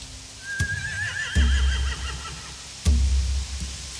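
Horses neigh in The Walking Dead: The Final Season video game, one rising, quavering whinny up close, punctuated by a few sharp knocks and heavy low thuds like stamping hooves, with no voices.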